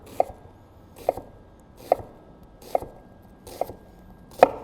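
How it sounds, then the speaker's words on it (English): Peeled carrot being diced with a knife on a cutting board for creamy tomato soup: six crisp, evenly spaced chops, close and clear, with a quiet pause between each. "We'll get it peeled and diced down."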